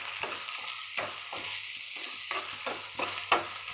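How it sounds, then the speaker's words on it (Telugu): Ginger garlic paste fries with onions in a pan, a steady close sizzle broken by repeated scraping stirs of a spoon. "ఇప్పుడు కొద్దిగా అల్లం వెల్లుల్లి పేస్ట్ 1 స్పూన్ వేద్దాం. దీనిలోని పచ్చి వాసన పోయేంత వరకు కొద్దిగా వేపుకోవాలి."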